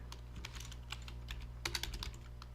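Keys tapped on a computer keyboard to enter a number, a run of light clicks with a denser, louder burst near the end, close by over a steady low hum.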